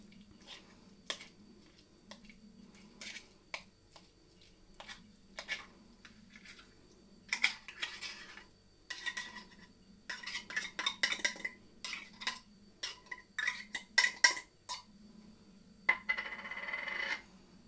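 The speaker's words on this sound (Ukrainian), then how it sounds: "Тунець розминаємо трішки такою виделкою." Close metal fork taps and scrapes against a bowl in irregular bursts, mashing tuna, with quiet stretches between clusters of clinks.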